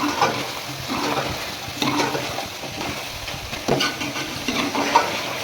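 Achar gosht masala in a kadhai, frying in ghee with tomatoes while being stirred: a steady close sizzle with periodic scraping stirs roughly every two seconds, with no voices over it.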